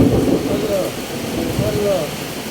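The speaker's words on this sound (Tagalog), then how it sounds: "Malakas yung ulan, no?" Heavy rain pours steadily in a dense broadband hiss, with a low rumble and faint voices in the background.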